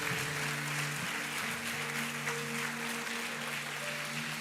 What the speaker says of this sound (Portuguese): Você pode dar um aplauso